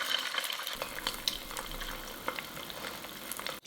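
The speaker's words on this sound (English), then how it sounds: "In a small pan over medium heat, add about 1 tablespoon of oil. Crack the eggs inside and cook until the bottom is set." Eggs frying in about a tablespoon of oil in a small pan over medium heat, a steady close sizzle with small crackles and pops running throughout.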